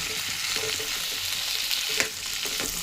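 Chopped vegetables for tomato bath fry steadily in hot oil, giving a dense, continuous sizzle with soft stirring scrapes throughout. No voices.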